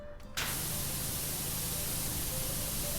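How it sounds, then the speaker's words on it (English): A pressure washer blasts water in the PowerWash Simulator video game. It starts abruptly after a brief quiet moment and holds as one loud, steady, hissing spray. "If I just spray enough water down there, there won't be lava anymore, right?"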